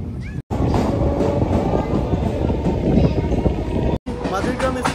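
A Bongaon to Ranaghat local train pulls away from a station, with dense rumbling and rattling wheel noise broken by two brief drops to silence, and a voice talking over it.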